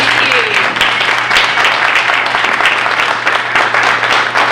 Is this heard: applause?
yes